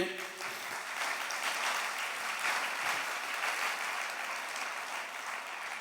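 A church congregation claps together in a steady, dense round of applause that fills the hall for several seconds at a moderate, even level.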